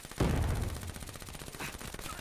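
Rapid bursts of gunfire in Call of Duty: Black Ops 3 multiplayer, a quick volley of shots that is loud at first and then keeps rattling more quietly.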